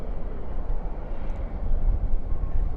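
Sun Country airliner landing at DFW at night with spoilers up and thrust reversers deployed, a deep, broad rumbling roar that swells toward the end, steady and fairly loud.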